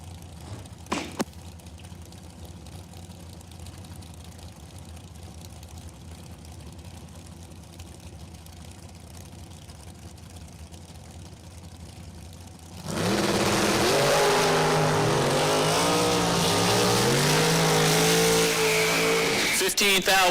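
A Mopar dragster at Numidia Dragway roars to full power after a long quiet stretch of low crowd murmur, the engine loud, close and sustained as it revs hard down the drag strip.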